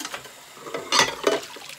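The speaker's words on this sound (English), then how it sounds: "We're going to rinse these dishes." Dishes being rinsed at a home sink, with faint clinks of plates and utensils and a brief swell of running water near the middle, no voices.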